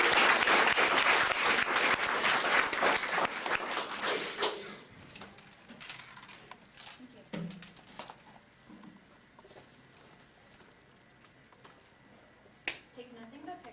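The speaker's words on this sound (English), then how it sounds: "Give her a round of applause, guys." Audience applause at an Earth Day speech showcase rises loud and dense for several seconds, then thins to scattered claps and room noise.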